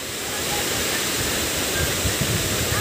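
A mountain-fed waterfall at Badiang Spring Resort roars with a continuous, dense rushing of water, steady and close, with no voices over it.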